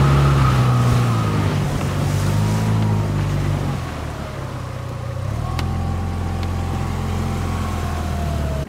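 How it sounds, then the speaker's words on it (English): An outboard engine on a small inflatable boat at sea drops back to idle, a loud steady low drone with a slight pitch shift partway through and faint water noise around it. "It's so reassuring every time I put it back to idle that my engine doesn't cut out."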